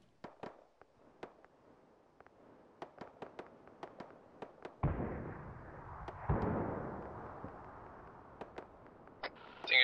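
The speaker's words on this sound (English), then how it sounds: "I think air station Mike 26 being mortared right now. That would be NATO mortars, right?" Mortar fire in the ArmA 3 video game: scattered sharp distant pops and cracks sound throughout, then two heavier booming impacts with rumbling tails, mostly faint and far off.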